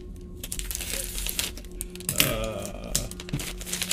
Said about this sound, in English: So I'm gonna have to cut this open.